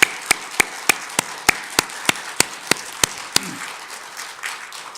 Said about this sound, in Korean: 더 크게 영광의 박수를 칩시다